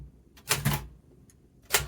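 A typewriter being typed on, with a couple of loud, close key strikes, a faint tap, then another sharp strike, spaced irregularly with no talking.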